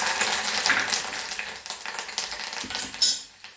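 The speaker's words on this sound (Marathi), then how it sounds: "आता आपली फोडणी तडतडायला लागलेली आहे" Curry leaves and spices sputter in hot oil for a tempering while making dagdi poha chivda, a dense, steady crackle and sizzle running throughout with a sharper hiss near the end.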